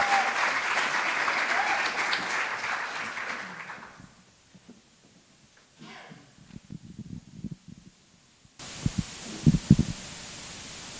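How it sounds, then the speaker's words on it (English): Audience at a business plan competition finals applauds to welcome contestants, a broad dense clapping wash for about four seconds that fades out, followed by quiet rustles and scattered knocks. "welcome them with a round of applause"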